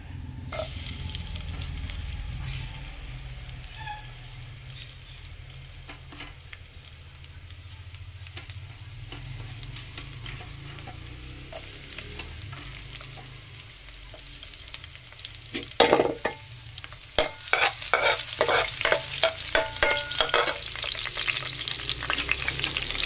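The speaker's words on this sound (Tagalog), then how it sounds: "Kisa tayo ng bawang sibuyas." Garlic and onion sauté in a pan for igado, a faint steady sizzle underneath until a utensil starts scraping and clanking in quick, repeated strokes near the end.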